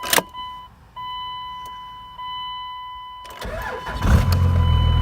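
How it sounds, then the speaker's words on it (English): A 2000 Dodge pickup with a 24-valve Cummins diesel cranks and fires up loud and close, following a click and a stretch of electrical whine, then settles into a rough, heavy rumble. "Let's go ahead and start it up real quick."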